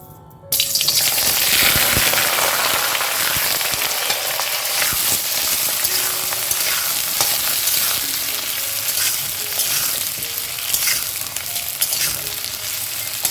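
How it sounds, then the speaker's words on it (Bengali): Potato and chayote squash pieces fry in hot oil, a loud, dense, continuous sizzle right up close that starts abruptly and holds steady, with occasional stirring scrapes beneath. "এই সময় আমি আলুটা স্কোয়াশটা একটু ভেজে নেব"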